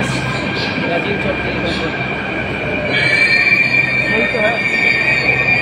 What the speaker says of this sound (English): Train is coming, bro. Metro is coming.